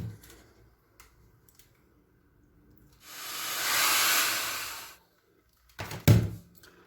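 A hair dryer blows on fabric paint laid over a Marilyn Monroe stencil, drying a painted earring: a steady, airy whoosh runs for about two seconds, then a short thump and clatter follow.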